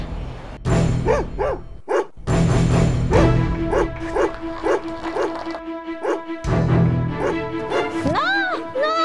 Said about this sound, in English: it's not unusual to see a lot of street dogs wandering around in Mexico